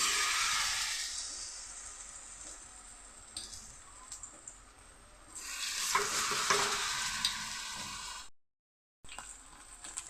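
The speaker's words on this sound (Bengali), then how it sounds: "প্যানের মধ্যে কিছুটা তেল দিয়ে দিয়েছি এখন আমি গোলা দিয়ে যে কাকলগুলি রেডি করেছিলাম এগুলি একটা একটা করে দিয়ে দিই" Batter-coated spiny gourd pieces fry in oil in a pan with a steady, close sizzle that swells midway, broken by a brief silent gap near the end.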